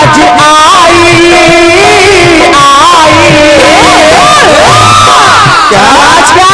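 Loud crowd cheering, shouting and whooping from an audience at a Hindi jawabi kirtan stage performance, a dense roaring mass of many voices.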